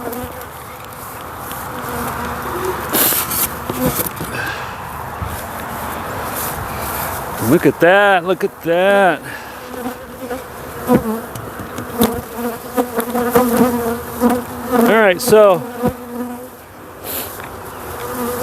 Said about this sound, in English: retreat from this bee spot here